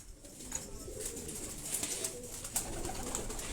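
A purebred Sialkoti pigeon coos softly in a loft, low faint calls repeating over a steady background hum, with no talking.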